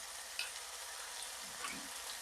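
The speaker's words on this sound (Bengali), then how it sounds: "টমেটোগুলো হালকা হালকা ভাজা হয়ে গলতে থাকবে, এই মশলাটাও দিয়ে দেবো" Tomatoes and spice paste fry in oil for a mixed vegetable curry, giving a quiet, steady sizzle with faint crackles and a soft stir near the end.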